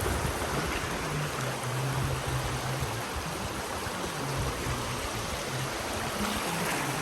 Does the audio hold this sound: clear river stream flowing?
yes